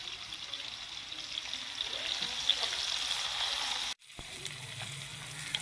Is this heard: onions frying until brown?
yes